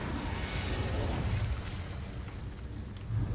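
A dense, rumbling blast from the Confringo fire spell fills the space in Hogwarts Legacy, a loud, sustained explosive roar with crackling debris that swells again at the end.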